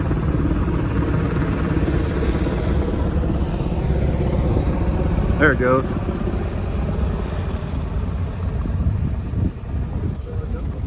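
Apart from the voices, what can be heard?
helicopter flying overhead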